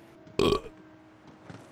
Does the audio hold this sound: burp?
yes